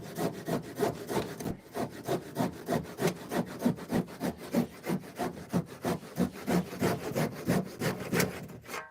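A handsaw cuts through a wooden 2x4 wall stud, roughly 2.5 by 44 mm timber, with fast, even back-and-forth strokes, about three per second, rasping loudly and close throughout.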